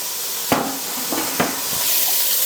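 Bell peppers added to a hot pan of softened onions and garlic for vegetable fried rice, a steady hiss of sizzling with a few sharp clanks of the utensil against the pan.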